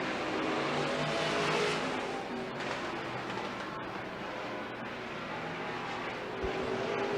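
Stock cars race around the Douglas County dirt track, a dense, continuous roar of several engines at steady loudness from a distance, with one swell early on and no clear talk over it.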